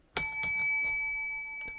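A small shame bell is rung twice in quick succession, bright metallic dings that ring on and fade slowly across nearly two seconds, with no speech.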